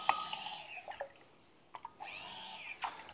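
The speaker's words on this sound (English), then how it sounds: "Give it a rinse." Water runs over a Bamix hand blender being rinsed after making a frozen mango smoothie, a steady faucet splash with a few sharp drips and clinks, close by and fairly quiet.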